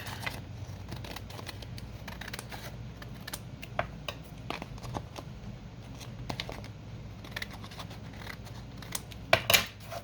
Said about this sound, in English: I'm going to trim this piece right here off